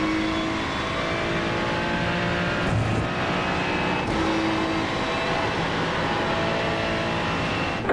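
A race car engine roars steadily on a race track, loud and continuous throughout with slight shifts in pitch as it drives on.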